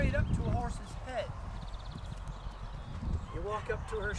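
Hooves clop slowly on the ground as a horse walks, with voices talking throughout and a few chirps in the background.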